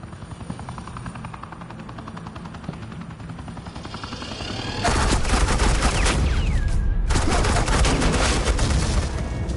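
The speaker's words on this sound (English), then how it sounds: "This is Agent Quinn, suppressing fire." Machine-gun suppressing fire in the Telltale Batman game, a helicopter's rotor thrumming first before loud sustained bursts of automatic gunfire erupt halfway through, with a brief pause between volleys.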